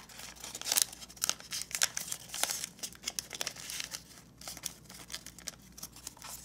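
Paper edges are folded inward around a triangle while making an origami gauntlet, soft crinkling and crisp creasing rustles in irregular bursts, close and fairly quiet.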